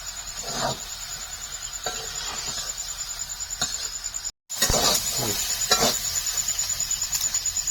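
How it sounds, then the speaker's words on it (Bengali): Chickpeas sizzle in a hot pan with a steady crackle, broken by a few scrapes of stirring and a brief gap. "বুটটা দিয়ে আর একটু ভেজে নেব"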